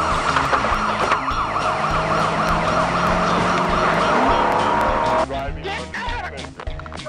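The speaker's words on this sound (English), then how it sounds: "He hops in his car, hits the lights, and speeds off to help her out." A police car siren wails loudly and continuously as the officer's car speeds off, its rising and falling tones dominating, then cutting out abruptly near the end, leaving road and engine noise.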